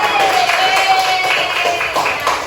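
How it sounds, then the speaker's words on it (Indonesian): Classroom clapping for a man during an elementary school lesson simulation, a dense patter of many hands running steadily throughout with a reverberant, roomy tone and possible voices mixed in. "Beri tepuk tangan dulu buat Bapak."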